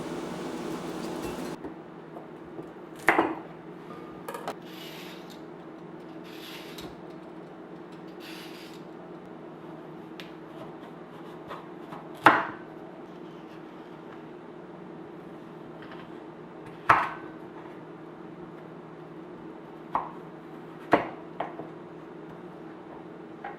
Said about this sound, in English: Now I'll take a beautiful carrot, peel it, and cut it in little cubes.